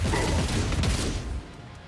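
Bolt gun fire in Warhammer 40k Rogue Trader, a dense, loud burst of explosive blasts and crashing impacts that rumbles for over a second before fading to a softer tail.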